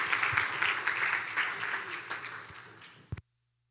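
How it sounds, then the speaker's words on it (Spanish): Church congregation clapping for Christ during a Spanish-language service, a dense patter of applause that gradually tapers, then a last few claps before it cuts off abruptly. "Dele palmas a Cristo"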